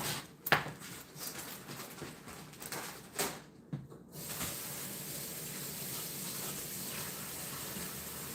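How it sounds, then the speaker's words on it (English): Tap water runs steadily for a quick rinse in a home kitchen, preceded by a few clatters and knocks of handling, then a continuous even hiss of flowing water. "Just a quick rinse."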